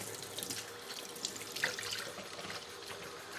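Warm water runs steadily from a tap into a plant reservoir, a constant hissing splash heard close and alone without any voices.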